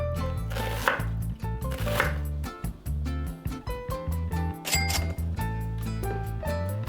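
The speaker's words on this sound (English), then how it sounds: "Start by chopping the onion." A kitchen knife chops an onion on a cutting board in quick, rhythmic, close-up strokes, crisp repeated taps with occasional sharp clinks, under background music and no talk.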